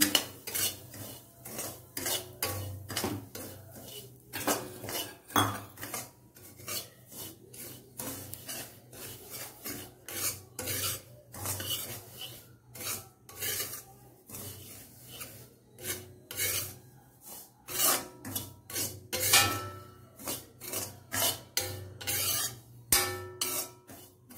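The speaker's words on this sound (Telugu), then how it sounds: "రవ్వ వేగిపోయింది, కొంచెం వేగిపెట్టాలన్నమాట." Bombay semolina (rava) being stirred and dry-roasted in a pan with a metal spoon, a steady run of scraping and clinking strokes close up, no talking.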